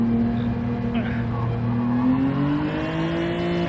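A race car engine in Gran Turismo 7, driven with a wheel, revving hard and climbing in pitch through quick upshifts, loud and continuous, with a player's voice faintly under it.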